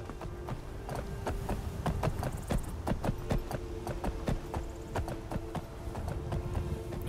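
Steady clip-clop of horse hooves at a trotting rhythm over a low hum in Skyrim, fairly quiet and close.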